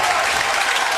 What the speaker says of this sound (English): and the crowd reacts